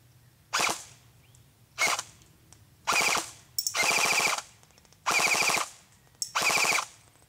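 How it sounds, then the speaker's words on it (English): An AGM Sten MKII airsoft electric gun fires 0.2 gram BBs at a target in six short, loud, close bursts of rapid buzzing shots, separated by brief pauses, with no talking. "Let's go ahead and take a couple shots here."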